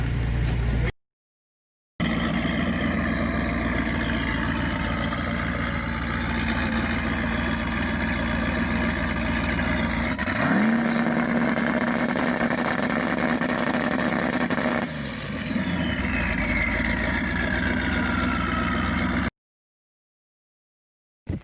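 A Mazda Miata race car engine runs continuously at a racing event, a loud steady drone with a rising rev partway through, then settling back, close and alone without talk.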